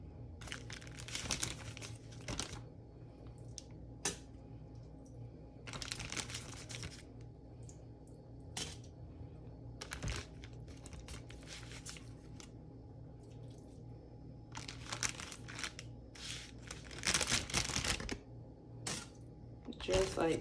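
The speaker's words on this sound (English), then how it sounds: "I'm going to move it over to this plastic bag." A plastic bag crinkles and rustles in bursts while raw chicken wings are seasoned in a kitchen, with quiet gaps between handling sounds and faint talk in the background.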